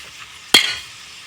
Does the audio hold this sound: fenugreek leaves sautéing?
yes